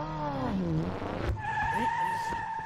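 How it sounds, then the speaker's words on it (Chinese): A car brakes hard and its tires skid, giving a sustained squealing whine that ends in a sharp jolt, then shifts into a steadier, higher squeal. "你怎么总踩刹车呀？"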